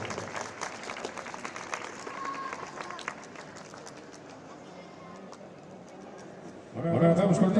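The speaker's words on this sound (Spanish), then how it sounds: "Último aplauso" Audience applause at a women's cycling race award ceremony in Estella, a steady crowd clapping that swells louder near the end, with a voice over the start.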